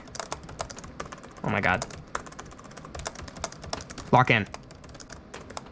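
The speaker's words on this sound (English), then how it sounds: "you can see here that my keyboard is just working out of the box and my trackpad isn't going all over the place while I'm typing" Fast typing clatters on a laptop keyboard running Linux Mint, a dense stream of close, crisp key taps throughout, with a person speaking briefly twice over the keys.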